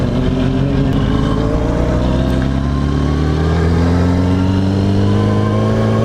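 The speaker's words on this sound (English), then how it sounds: "New exhaust, just put a Kaufman exhaust on it." A Yamaha R1 sport motorcycle fitted with a new Kaufman exhaust runs close by, its engine note rising steadily as it accelerates through the revs, loud and continuous without any talk.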